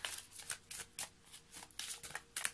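Oracle cards are shuffled by hand during a card reading, a quiet, close series of soft riffling flicks in a quick uneven rhythm, heard alone.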